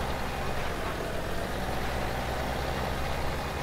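A tractor engine in the video game Farming Simulator 17 hums as a constant, dense, even drone with a heavy low rumble, loud and unbroken, with no voices over it.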